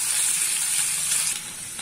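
Doddapatre (Indian borage) leaves frying in a pan, a steady bright sizzle that holds close and fairly loud before easing slightly near the end, with no voices.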